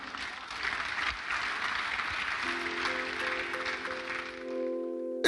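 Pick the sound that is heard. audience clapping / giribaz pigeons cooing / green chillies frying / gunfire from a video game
audience clapping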